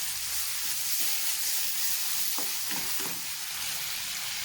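Fried rice vegetables stirred in a pan, with a steady frying sizzle under a few scraping strokes from about the middle of the clip.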